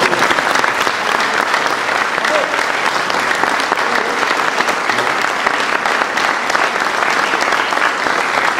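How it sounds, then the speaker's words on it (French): Sustained applause from an audience at a French humanitarian award ceremony honouring a medal recipient, steady dense clapping throughout with a faint murmur of voices underneath. "je crois qu'on va te féliciter et t'applaudir"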